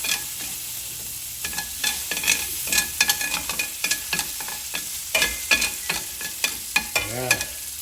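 Garlic sizzles in a pan while being stirred, giving a continuous frying hiss broken by frequent sharp scraping clicks of a utensil against the pan, close and busy.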